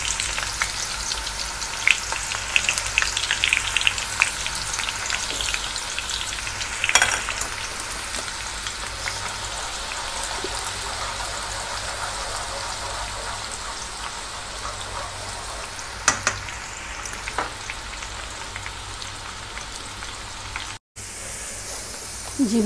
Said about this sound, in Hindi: अब हम इसके ऊपर तड़का लगाएंगे जो हमने इसके प्याज काट के रखे थे, उसी ऑयल में डालेंगे